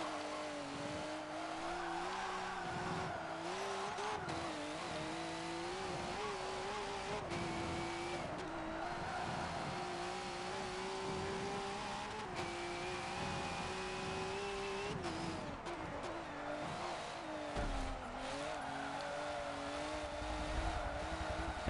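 A V8 Supercar in Forza Motorsport 7 at Rio de Janeiro slides sideways with steady engine drone and tyre squeal, loud and continuous throughout, with no talk.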